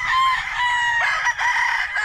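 A rooster crows loudly and close among farm chickens, its drawn-out call ringing over soft clucking with a short break midway.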